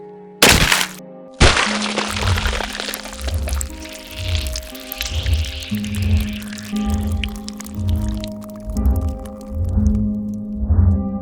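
A rifle fires AAC 77 grain OTM rounds outdoors, with two sharp, loud cracks early on followed by a long ringing, rumbling tail and low pulsing reverberation.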